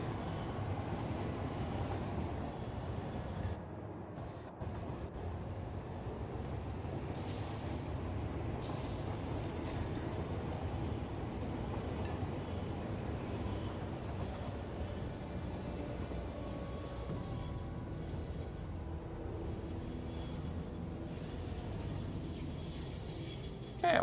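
A train braking in the game Satisfactory, a steady broad rumble of wheels and rail noise with faint squeal, continuous and fairly close throughout.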